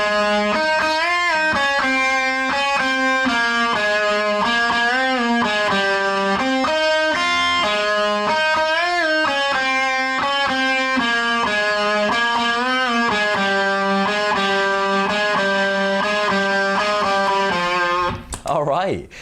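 Electric guitar with a distorted tone playing a song's solo, a sustained singing melodic line with bends, loud and continuous before a brief rustle at the end.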